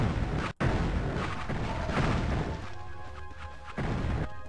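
An enemy weapon fires in the Heretic video game with a heavy crashing blast, followed by a brief silent gap, then dense rumbling impact noise and a ringing tonal sound, loud throughout.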